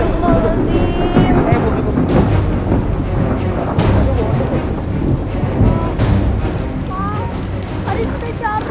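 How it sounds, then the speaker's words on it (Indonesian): Thunderstorm with heavy rain: a steady, loud downpour with rolling rumbles of thunder, and voices heard faintly through the storm. "Hujan."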